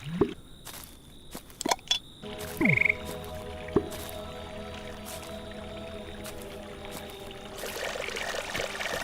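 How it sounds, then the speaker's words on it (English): A frog in the video game Creature Kitchen croaks a few times early on, short close calls over wet squishing and pouring effects, followed by a steady hum with no talk. "Hi, frog."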